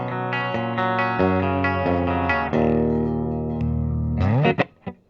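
A 1993 Gibson Flying V Limited Edition electric guitar on its bridge pickup plays a run of sustained chords and single notes through effects with distortion and chorus, bright and slightly thin, ending in a few quick plucked hits.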